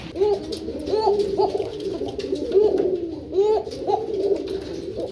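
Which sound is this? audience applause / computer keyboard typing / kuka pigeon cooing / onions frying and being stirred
kuka pigeon cooing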